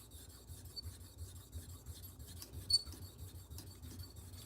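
Left-handed salon shears being sharpened, with faint, close rasping and rubbing strokes in an irregular rhythm, one brief louder scrape, over a low background rumble.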